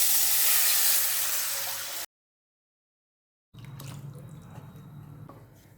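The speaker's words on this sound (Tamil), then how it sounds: "நம்ம கரைச்சி வச்சுருக்க ரசத்தை இதில் ஊற்றிக்கலாம்" Liquid rasam pours into a pan of hot spiced tempering with a loud hissing rush, then cuts to silence before a quieter, steady sizzle bubbles alone.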